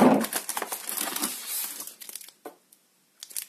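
Plastic packaging crinkling as a parcel of accessories for a Xiaomi Redmi 4X phone is opened: a loud, close burst of rustling that thins into a few sparse crackles and then near silence.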